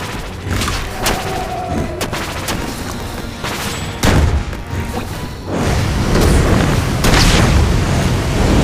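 Dense, loud bursts of explosions and gunfire in the video game Magicka rumble continuously, with booming blasts layered over a chaotic battle din.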